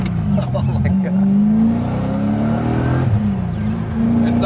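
A BMW E30 coupe fitted with an M60B44 V8 engine accelerates on the road, its loud, close engine note climbing steadily in pitch inside the cabin as people talk over it.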